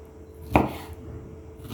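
A single sharp knife chop on a board while cutting lamb liver, close and distinct, over a quiet background hum.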